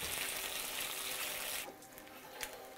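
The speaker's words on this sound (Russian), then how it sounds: "картошка жарится" Potatoes fry in a pan with a bright, steady hiss and crackle that suddenly drops to a quieter sizzle partway through, dotted with a few small pops.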